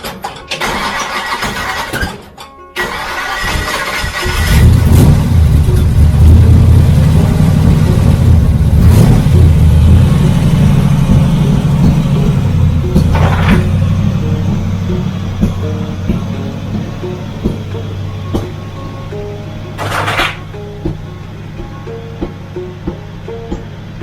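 A 283 V8 in a car cranks and fires up, then revs and settles into a loud, steady idle with a few blips of the throttle, heard up close with no talking.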